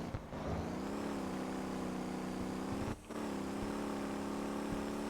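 A Wrecker tow truck driving in the video game Motor Town has a steady, tonal engine hum that drops briefly as if shifting gear and then settles back to an even drone.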